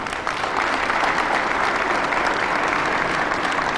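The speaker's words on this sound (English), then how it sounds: "Let's give all of our teams another big round of applause." A gym crowd at a community college grand opening gives a sustained round of applause for the school's sports teams, dense and even from start to finish.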